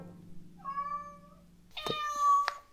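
House cat meowing beside a piano: two clear, close meows, the first a drawn-out whine and the second sharper and rising, with low piano-like tones under the first; no talk.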